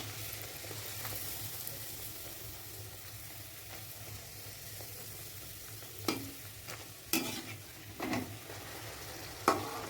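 Peas-stuffed kachori fry in hot oil in a wok, a steady soft sizzle throughout, with a few sharp clinks and scrapes of a utensil near the end as one is turned over.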